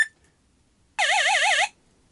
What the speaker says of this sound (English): that's like a laser, really, isn't it? Or a phaser sort of thing.